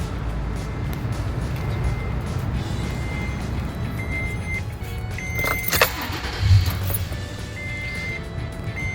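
A car engine is cranked with a portable jump starter booster during repeated start tests, giving a steady close rumble with brief metallic clicks and a short burst partway through.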